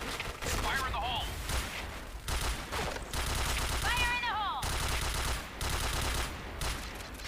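Rapid bursts of gunfire in a Point Blank shooter game, played with macro no-recoil settings, crackle continuously while someone talks over it.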